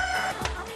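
Free-range fertile-egg hens on a natural farm, fed homemade feed, cluck loudly and close, with a brief rooster-like call rising in the middle of a short burst of fowl noise.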